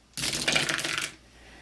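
Dice rattle and tumble across a surface for about a second during a tabletop football game, a quick burst of clicking hard plastic with no voices.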